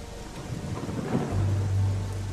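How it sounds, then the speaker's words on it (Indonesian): Heavy rain pours steadily on a tea-plantation stall at night, with a deep rumble of thunder swelling in the second half, staged as a radio drama sound effect with no voices. "Hujan yang tak kunjung berhenti membuat kami menunggu cukup lama"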